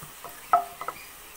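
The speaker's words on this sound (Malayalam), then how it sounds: "വെളിച്ചെണ്ണ നന്നായി ചൂടായി കഴിയുമ്പോൾ ഇതുപോലെ വെല്ലുള്ളി ഇട്ട് കൊടുത്ത് നമുക്ക് ഫ്രൈ ചെയ്യാം" Garlic fries in hot coconut oil in a pan: a soft sizzle with a few quick, sharp stirring clicks, all brief and fairly close.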